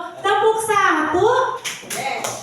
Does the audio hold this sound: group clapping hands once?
yes